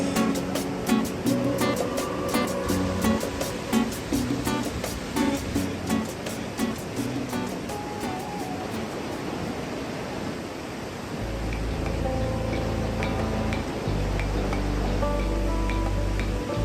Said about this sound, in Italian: Questo fragore che sentite è proprio lei, è la cascata Pedruc.